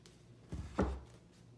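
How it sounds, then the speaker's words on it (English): A knife chops red onion on a cutting board, giving a couple of quick, close, dull thuds in a brief burst against a quiet background. "you're going to want to finely chop your red onion to about this size"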